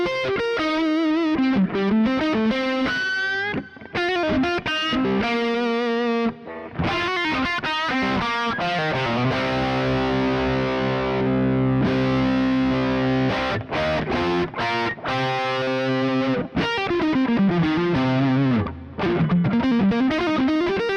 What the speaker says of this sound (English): this is treble pickup neck pickup going to bridge pickup.